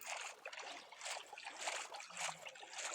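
In a video game, gentle rhythmic water sloshing and trickling, like oars dipping as a small boat moves steadily along a river, with no voices.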